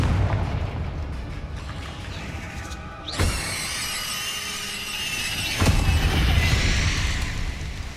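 Confringo blasting curses in Hogwarts Legacy go off as two loud, sharp explosive bursts a couple of seconds apart, each trailing into a bright, crackling, shattering wash of debris.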